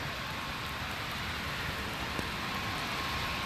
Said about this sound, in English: it's raining. Full on raining.